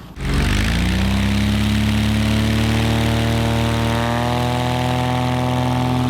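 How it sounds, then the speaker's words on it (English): A small experimental airplane takes off from a short dusty runway, its propeller engine roaring up to a loud steady drone with a rising pitch that levels off, close and sustained with no talk. "Great takeoff. Making tons of dust, I love it."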